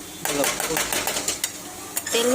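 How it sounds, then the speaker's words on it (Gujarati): Spices stirred into hot oil in a pan make a soft sizzle under repeated close scraping and clinking strokes of a spoon against the pan. "તે મસાલા મિક્સ થાય એમ હલાવી રહેવાનું"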